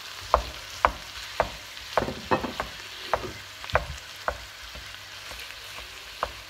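Minced meat sizzling and frying in a pan with half-cooked peppers and onions, with steady crackling and repeated sharp clicks and scrapes of stirring, close up, no talking.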